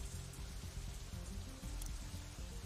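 Steady rain sound effect from the visual novel game Katawa Shoujo, a dense continuous patter of falling drops, with a low rhythmic music-like murmur beneath and no talk.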